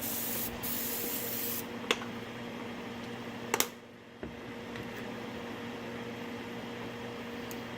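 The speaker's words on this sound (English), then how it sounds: "Clean out the airbrush." An airbrush being cleaned out hisses with a steady spray of air, broken by a few small clicks and a brief pause before the spraying resumes, fairly close and at a moderate level.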